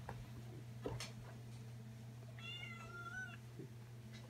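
A small kitten meows in a short string of high, wavering calls in the middle of a quiet indoor winter night scene, with a steady low hum underneath and a soft knock near the start.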